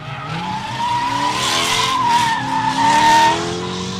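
A drift car at a drift park skids with a sustained, loud tire squeal that wavers in pitch over several seconds, engine roaring beneath and no talk.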